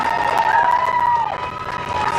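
A small crowd cheers for NASA astronauts Bob Behnken and Doug Hurley, a dense wash of shouts and whoops at close range, continuous for a couple of seconds.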